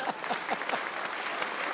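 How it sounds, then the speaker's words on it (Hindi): Studio audience applause on a comedy talk show, a short burst of brisk clapping from a crowd, fairly loud and close, with a faint voice tone rising through it. "सबसे पहले तालियां बजाएंगे"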